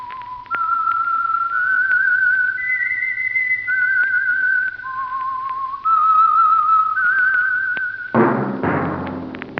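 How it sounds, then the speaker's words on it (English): A clear, melodic whistled tune of held notes stepping up and down, loud and close, ending with a brief burst of orchestral sound. "That whistle is your signal for the Signal Oil Program"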